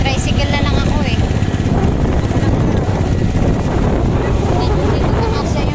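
A motorized tricycle ride: a constant loud engine drone with heavy wind buffeting, close and unbroken throughout, with faint voices mixed in.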